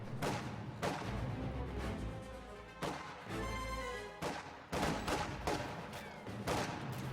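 Machine gun and mortar fire crack across a strategy video game battle in loud, rapid bursts and booming volleys, several separate salvos back to back with brief gaps between them.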